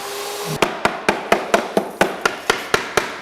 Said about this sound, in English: You want to use the rattle gun, take off all the splice plates.